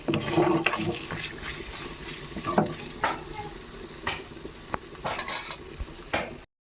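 Beef liver frying in a pan while being stirred, with a continuous sizzle broken by repeated scraping strokes and knocks of the utensil against the pan, close and fairly loud.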